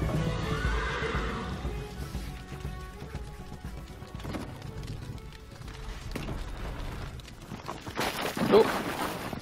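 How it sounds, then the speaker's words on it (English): Horses whinny and gallop in the video game Unravel 2, with a neigh near the start and hoofbeats under the game's music and effects, rising to a louder burst near the end. "Oh, and there goes the horses."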